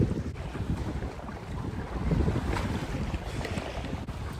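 A small boat pushes through choppy water, wind buffeting loudly over a rough churn of waves slapping against the hull.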